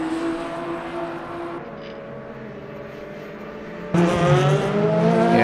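Alpine race car engines in the Le Mans Ultimate racing game drone steadily with strong harmonic tones, then jump abruptly louder and brighter near the end as a car closes in or revs harder.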